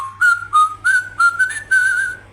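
A Matchbox toy farm playset gives off a short electronic whistle tune, about six clear rising and gliding notes in quick succession, close and loud with no talking.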